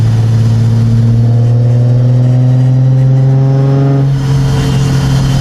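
A Nissan 350Z in fifth gear with a slightly loose exhaust silencer pulls hard, its engine note steadily climbing in pitch and loudness as it accelerates, heard close up from inside the car with no talking.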